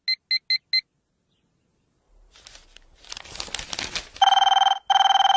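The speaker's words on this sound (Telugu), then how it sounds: "అబ్బా, ఈ ఫోన్ చంపేస్తున్నా" A telephone rings in two loud, close electronic bursts near the end, preceded by four short beeps and a stretch of rustling.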